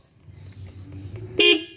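A single short, bright horn honk from a Yamaha Mio Sporty scooter sounds near the end, loud and close, following a quiet stretch with faint mechanical ticking.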